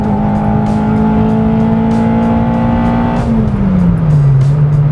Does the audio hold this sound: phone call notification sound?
no